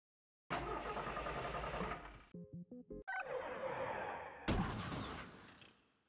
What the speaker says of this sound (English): I'm going to crash the car.